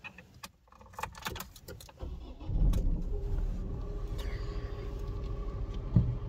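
Dacia Duster engine cranking and catching, preceded by clicks and rustling inside the car, then settling into a steady low idle hum heard from the cabin.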